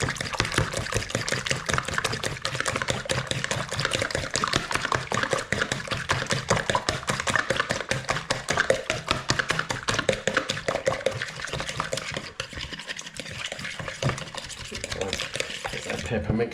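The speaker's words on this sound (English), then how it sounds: "Salt, pepper, mixed herbs, whack them in there, beat the eggs up." A fork rapidly whisks three eggs with salt, pepper and mixed herbs in a bowl, producing fast, even clicking strokes close up that continue without pause, with no talking over them.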